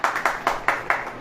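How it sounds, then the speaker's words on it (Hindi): Audience at a Hindi sermon claps in five sharp, evenly spaced bursts, loud and close, with no speech over them. "ताली बजाइए"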